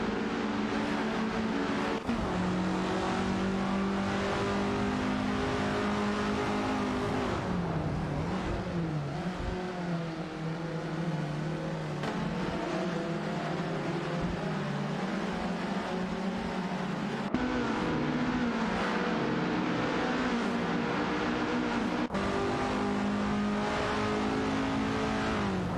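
Race cars in an AI-driven racing video game, a continuous loud engine roar with revving shifts and pitch swings throughout, no talk over it.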